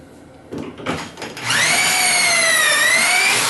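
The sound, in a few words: drilling pocket holes in wood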